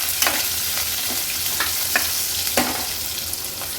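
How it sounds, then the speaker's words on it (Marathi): Sliced onion fries in a hot pan for hotel-style sambar, giving a loud, steady sizzle close by. Stirring strokes with a spoon scrape through it at irregular intervals. "आता कांदा व्यवस्थित आपल्याला शिजवून घ्यायचा आहे।"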